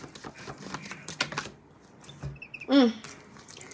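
Quick riffling clicks of tarot cards being shuffled close by, in short bursts, followed by a brief soft murmur.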